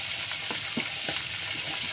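Whole green chilies drop into hot oil with frying koi fish, bringing a steady, close sizzle and crackle with a few soft stirring knocks under the bright frying hiss.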